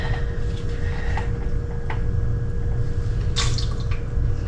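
Fermentation brine from cabbage splashes and drips back into its container, a close wet pouring with scattered drips and a brief brighter splash near the end, no talking.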